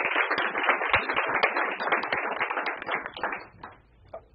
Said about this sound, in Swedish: vi ger Burak en applåd